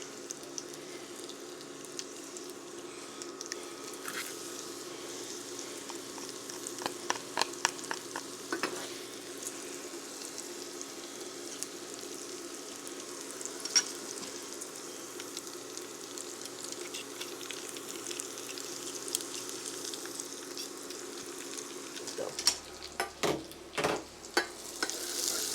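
Garlic and bay leaf frying in a pan, a steady soft sizzle with scattered clicks and scrapes from stirring, then louder clattering near the end, close by and with no talking.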